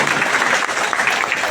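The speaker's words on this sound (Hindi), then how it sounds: "एक जोरदार ताली आपके लिए।" Brief burst of audience applause at a talk, dense steady clapping throughout.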